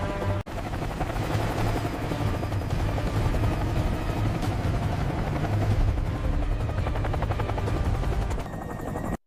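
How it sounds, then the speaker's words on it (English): Eurocopter Tiger military attack helicopter flying, a loud, steady rotor and turbine roar with rapid blade chop that holds throughout, heard alone. "The Eurocopter Tiger proves why it's one of the deadliest helicopters in the world."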